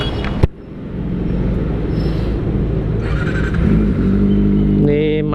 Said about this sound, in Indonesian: ini knalpot saya lur, Austin Racing lur, Austin Racing KW Super lur